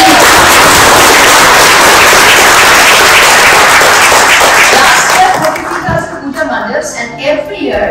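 An audience at a Holi celebration hall applauds loudly, dense crowd clapping sustained for several seconds before thinning out into scattered claps and room noise.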